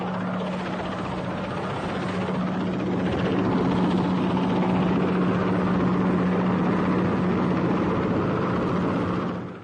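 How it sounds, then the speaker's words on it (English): Military helicopters ferrying supplies during the Falklands War, a steady loud rotor and engine drone with a constant low hum, holding evenly throughout before trailing off at the end. "Helicopters worked ceaselessly, ferrying artillery, rations, and above all,"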